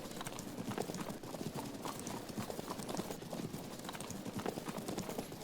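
Hooves of light horse archers in the video game Field of Glory 2 at the Battle of Chalons, a dense, steady clatter of many horses on the move that continues throughout without pause.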